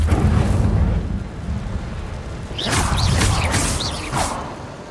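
Incendio fire spell cast in Hogwarts Legacy: a rushing fiery whoosh with crackling bursts and swooping tones, loud and close, layered over steady game ambience.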